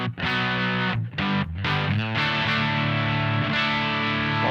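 Heavily overdriven electric guitar chords through a Line 6 HX Effects unit ring out loud and sustained, with a few brief pauses between strums.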